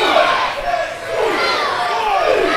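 A loud wrestling crowd roars and chants continuously at a match between Richie Nightmare and Laszlo Arpad, with rising and falling cheers and shouts filling the arena.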